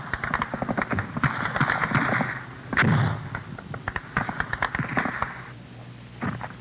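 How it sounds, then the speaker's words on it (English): Gunfire during a Vietnam War patrol near a village, with sharp cracks and bursts scattered irregularly over steady background noise, one heavier blast standing out midway. "All you can do is hear the bullets as they come at you."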